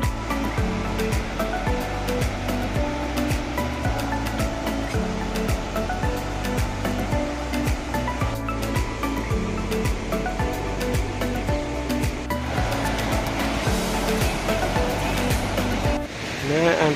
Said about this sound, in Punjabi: ਇੱਧਰ ਪਾਣੀ ਦਾ ਬਹੁਤ ਜ਼ਬਰਦਸਤ ਆ ਰਿਹਾ ਵਾ ਫਲੋ